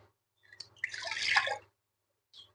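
Water is poured into a pot to cook moong and masoor dal, giving a short splashing pour close by in a quiet room, then a brief trickle after a pause.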